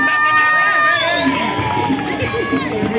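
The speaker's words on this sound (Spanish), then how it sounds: "y el aplauso para Mega Boy." Crowd cheering and applause at a lucha libre wrestling match after an elimination, a loud, continuous roar of voices with shouts rising over a steady crowd wash throughout.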